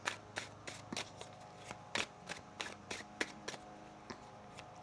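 Tarot cards being shuffled by hand in a quiet room, a series of crisp riffling bursts and soft slaps repeating at an uneven rhythm, close and clear with no talking.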